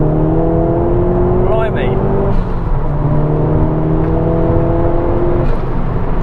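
Mk1 Ford Focus RS engine pulling hard in second gear, a loud, steady rising drone heard from inside the car, with a man's brief exclamation over it.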